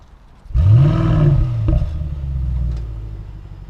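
A 2021 Mercedes-Benz GLS 63 AMG engine firing up with a raised-rev start, a sharp close catch that swells into a loud deep roar, then eases to a rumbling idle.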